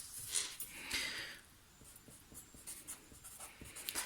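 A pen or marker writes a label on a homemade hand sanitizer spray bottle, making faint, close scratchy strokes in short irregular bursts, with no speech.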